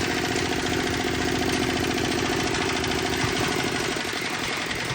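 A power weeder's small engine running steadily up close, a loud continuous mechanical drone and rattle with no breaks and no talking.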